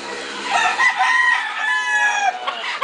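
A gamecock stag at a cockfighting farm in Caoayan, Ilocos Sur gives one full, close, loud crow lasting about two seconds.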